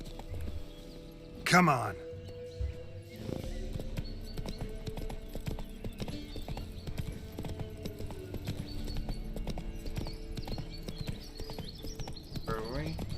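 Roach the horse in The Witcher 3: Wild Hunt, hooves clip-clopping in a steady trotting rhythm close by, with a brief whinny early on and someone speaking briefly over it.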